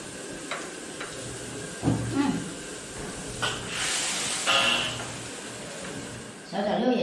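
Food sizzles in a pan during a home meal. A steady frying hiss swells into louder bursts, with people talking over it.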